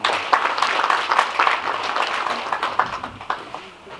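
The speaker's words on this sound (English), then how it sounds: "A big round of applause." Audience at a Girls in ICT Day event in Gweru, Zimbabwe, applauding a guest of honor; lively clapping that is loud at first and gradually thins out.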